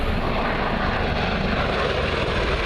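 A Bell Boeing V-22 Osprey tiltrotor in aircraft mode makes a low, fast flyby at an airshow, its engines and proprotors giving a loud, steady broadband roar that holds close and constant throughout.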